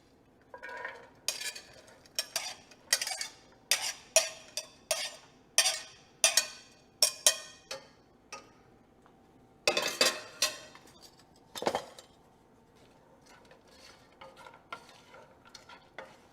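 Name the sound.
sautéing carrots, celery, onions and potatoes in a pan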